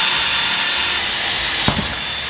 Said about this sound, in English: We're just gonna drill a pilot hole right through the door here.